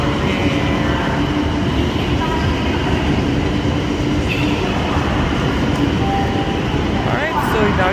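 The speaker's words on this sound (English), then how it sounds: "now you can say you saw a bullet train in China" A Chinese bullet train sits at a station platform, giving off a steady loud rail and machinery rumble with faint high whines and brief tonal tones, while people talk nearby.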